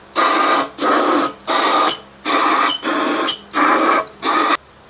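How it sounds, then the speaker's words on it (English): Compressed shop air blows out the intake ports on a 2011-2017 Honda Odyssey engine during a valve cover gasket job: seven loud, even hissing bursts, each about half a second long, separated by short pauses. "I'm simply just gonna use shop air and just clean everything out"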